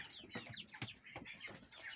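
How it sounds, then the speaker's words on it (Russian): Young month-old chickens cluck and peep in a farmyard, a busy cluster of short, bright calls repeating close by with no talk over them. "А вот наши цыплятушки."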